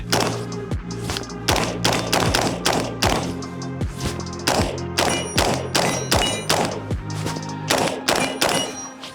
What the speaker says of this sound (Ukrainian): там перший постріл в малу мішень